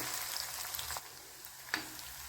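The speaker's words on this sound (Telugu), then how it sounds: "నేను వేయించుకుంటున్నాను ఇది కూడా కొద్దిగా వేగాలి" Ginger pieces fry in a pan for a spicy ginger chutney, giving a soft, steady sizzle throughout, with a couple of faint stirring scrapes.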